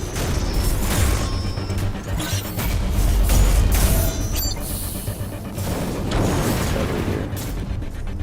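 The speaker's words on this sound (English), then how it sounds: "So now we force it to be hit by its own rockets." A robot in the game The Surge struck by its own rockets, heard as loud crashing impacts and booming bursts over dense mechanical noise, repeated through the stretch.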